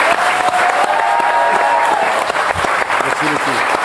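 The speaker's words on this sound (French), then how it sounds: "Applaudissez Charlotte et Amir." Dense audience applause fills the room for two performers, Charlotte and Amir, loud and continuous throughout, with a voice speaking over it partway through.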